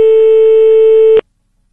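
A single steady telephone ringing tone from a call to a mobile phone sounds loud and clear for about a second, then cuts off abruptly into silence.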